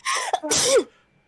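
A single close, loud sneeze, with a quick sharp intake of breath bursting into a strong expulsion that fades into quiet.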